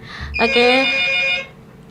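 A single telephone ring tone sounds during a radio call-in show, a bright sustained electronic tone lasting about a second, loud and close in a quiet studio.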